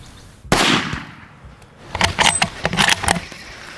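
A single loud rifle shot cracks out close by during an impala hunt in South Africa, then trails off, followed by a burst of rustling and clattering handling noise.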